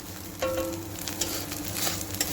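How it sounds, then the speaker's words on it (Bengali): A spice paste with cumin powder frying in a pan for ghugni, giving a close crackling sizzle with stirring scrapes and small pops throughout. "আর এইবারে ভালোভাবে থেকে কষিয়ে নিচ্ছি।"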